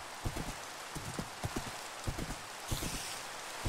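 Skeleton horse hooves clop in Minecraft during a ride, a quick, even run of crisp close hoofbeats with faint rain-like hiss in the background.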